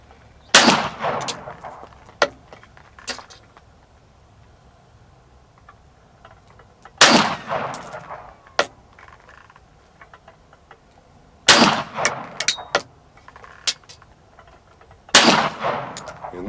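Sig Sauer P210 pistol firing 135 grain rounds from a Ransom Rest, four loud, sharp shots spaced a few seconds apart, each followed by ringing echo and small clinks of brass.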